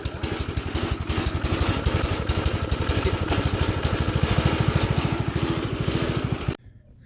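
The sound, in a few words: small tractor engine idling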